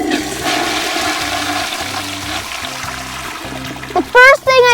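A toilet flush sound effect rushes and gurgles loudly for a few seconds, then drains away, alone apart from faint speech before it.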